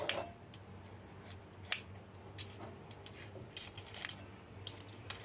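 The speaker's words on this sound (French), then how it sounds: "il faut juste couper la viande en petits morceaux" Scissors cutting cooked lemongrass pork belly into small pieces, giving a series of sharp, quiet snips at an irregular pace over a low background hum.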